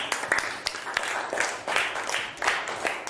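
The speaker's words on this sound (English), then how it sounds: "Please give them a big claps." A small audience claps in scattered, uneven bursts, moderately loud and close, with no voices over it.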